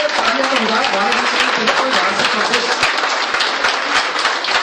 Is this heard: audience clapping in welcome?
yes